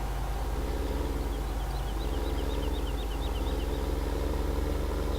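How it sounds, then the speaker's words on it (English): A tractor engine in Farming Simulator 17 runs at a steady idle, a constant low rumble with even pulsing that stays level throughout, heard alone without talk. "So where we can park this tractor?"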